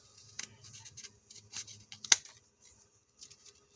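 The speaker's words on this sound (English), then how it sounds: "with my little fussy cutting scissors" Small fussy-cutting scissors snip through air-dry clay in a few quiet, close clicks and snips, one sharper cut standing out midway, with no talking.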